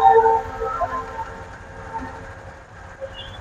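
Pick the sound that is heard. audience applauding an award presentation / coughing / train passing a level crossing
train passing a level crossing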